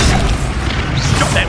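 A Confringo fire spell explodes in the Hogwarts Legacy video game, a loud, dense, booming blast that fills the short moment with heavy low rumble and crackling debris.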